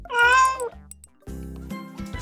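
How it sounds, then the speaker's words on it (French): A domestic cat meows loudly and clearly, a drawn-out cry followed after a short gap by a few shorter meows, close and alone with no talk. "c'est un chat."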